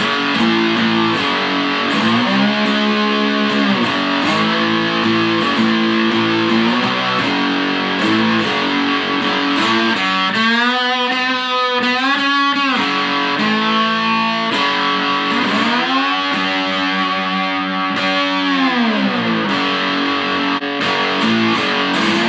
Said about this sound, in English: we're going to have a listen to this with a fair bit of distortion